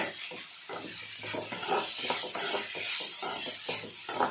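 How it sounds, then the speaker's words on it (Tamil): Onions and tomatoes for a brinjal thokku sautéing in a pan, with a soft continuous sizzle and hiss broken by a steady rhythm of stirring strokes, close by and with no voices. "வெங்காயம் தக்காளி தான் நல்லா வதங்கணும்"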